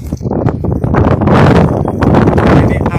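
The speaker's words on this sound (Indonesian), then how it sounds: "Ini anginnya sedikit kencang guys." Strong westerly wind buffets the microphone on a small fishing boat out at sea in extreme weather, loud gusty rumbling with rustling and knocking, and a voice speaking under it.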